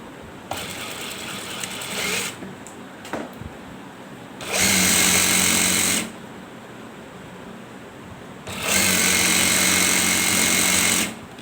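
Sewing machine stitching the hem of a ladies' belt shalwar, sealing the seam at 18 cm, running in two loud sustained bursts of about 1.5 and 3 seconds, with fainter handling and short mechanical clicks before them.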